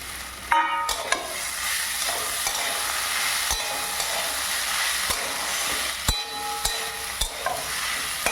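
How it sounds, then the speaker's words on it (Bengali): Slit green chillies sizzle in hot oil in a pan while a spatula stirs them, a steady hiss broken by sharp scraping clicks, close and clear with no talking. "এর মধ্যে এবার দিয়ে দিলাম চেরা কাঁচা লঙ্কা।"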